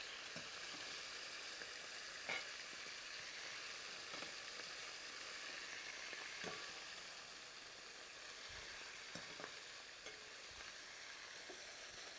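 Rabbit pieces frying in hot oil, with garlic cloves added to fry alongside, give a steady close sizzle and crackle, broken by a few soft stirring clicks and pops.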